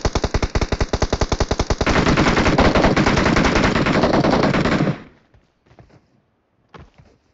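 Machine-gun fire in the BGMI battle-royale mobile game: steady rhythmic bursts of close, loud shots build into a dense, continuous stream of gunfire lasting several seconds, then cut off abruptly, leaving a few faint distant thuds.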